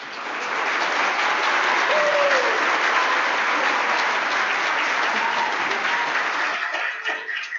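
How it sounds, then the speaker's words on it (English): A synagogue congregation at a Saturday afternoon Mincha service breaks into loud, sustained applause and cheering for a student, the clapping staying full for several seconds before thinning out. "Max, it feels almost appropriate that we should cheer right now."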